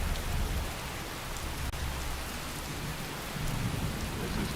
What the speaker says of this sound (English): This is quite a torrential downpour.